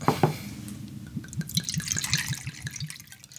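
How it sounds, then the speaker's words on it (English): Two ounces of reposado tequila poured into a cocktail glass, a close, steady gurgling trickle with quick rhythmic glugs, alone and fairly soft. "We'll do our 2 ounces of Reposado."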